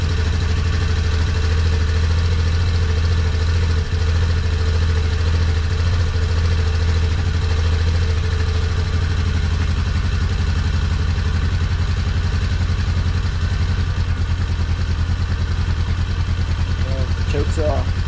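A 2003 Yamaha Big Bear ATV engine idles steadily to warm up, a continuous close low rumble with faint clatter running throughout, no speech over it.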